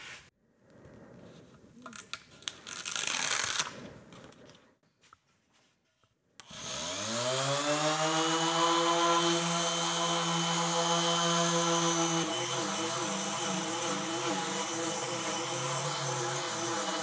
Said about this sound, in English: We're going to use a random orbital sander,